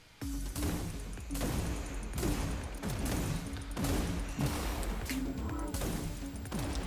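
Heavy weapon fire in Wrack: Exoverse, a rocket launcher fired over and over in a steady pounding rhythm, loud and dense, layered with continuous game music and effects.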